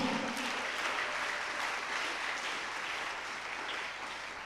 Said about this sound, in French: on acclame Dieu pour cela